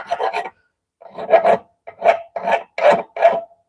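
A knife edge is rubbed to remove the burr during sharpening, giving close, distinct rasping strokes, about six or seven in an even rhythm with a short pause after the first.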